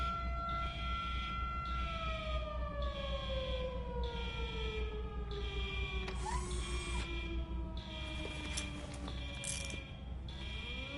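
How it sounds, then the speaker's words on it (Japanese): A wailing siren in the RoboCop: Rogue City video game, rising and falling in long sweeps over a pulsing alarm tone and a low mechanical hum, fairly faint and steady with no talking. "サイレンだ。"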